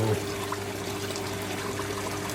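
Water trickles steadily into a koi quarantine tank, a soft continuous splashing flow heard close by.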